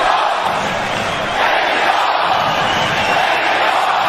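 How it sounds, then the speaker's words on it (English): A boxing arena crowd at the Canelo Alvarez vs. Caleb Plant fight roars in a loud, sustained wall of cheering and shouting that swells slightly midway and never lets up. "There is no question about this crowd being into this fight."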